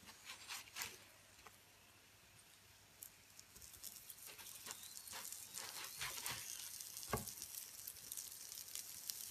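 A radish-filled flatbread fries in oil in a pan, a soft steady sizzle and patter with occasional crackles and small clicks, fairly quiet throughout with no talk.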